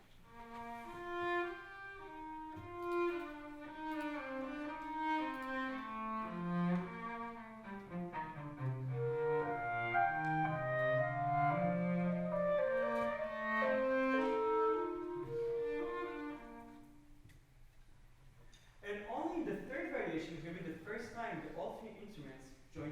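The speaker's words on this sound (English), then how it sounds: "he assigns the melody to the cello and the clarinet" Sustained melodic lines from a cello and a clarinet trade a gentle tune back and forth, moderately quiet, with a brief shift to a busier texture near the end.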